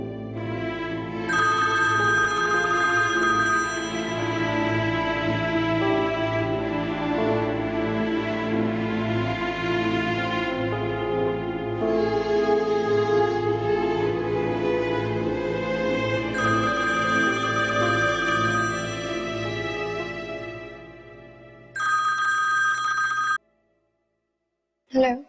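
A telephone rings again and again in a home scene from a TV drama, the tone running for most of the stretch, then a short gap and a brief final burst.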